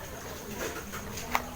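Racing pigeons arrive at their loft during a fun race, heard as faint fluttering and soft bird sounds, with one brief sharper tap near the end.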